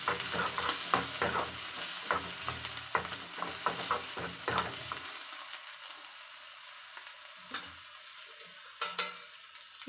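A small tomato frying in oil in a pan, heard as a close, steady sizzle broken by repeated scraping stirs of a spatula, busy at first and then quieter with occasional stirs, no voices.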